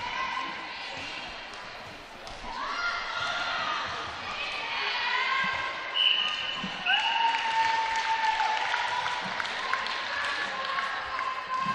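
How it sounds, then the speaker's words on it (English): Spectators cheer and shout through the closing minutes of an Israel v Gibraltar match, with Gibraltar supporters making noise; a sustained, moderately distant crowd roar rises with whistles and calls under a commentator's voice. "there's a bit of noise in the crowd from the spectators from Gibraltar"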